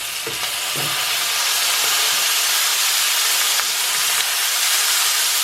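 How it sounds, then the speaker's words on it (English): Loud, steady sizzling of a burger patty frying in a hot pan, a broad crackling hiss throughout with a few soft scrapes near the start. "Place gently, season side down in the frying pan, and then smash it down with a spatula"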